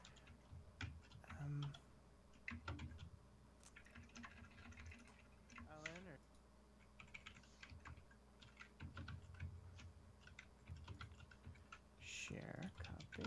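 Rapid clicking of computer keys comes in irregular bursts, close by and fairly quiet, with people talking intermittently over the typing.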